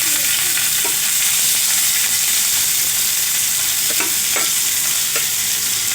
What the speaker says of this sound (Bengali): এখন আমি রসুন আর পেঁয়াজগুলো ভেজে নেব।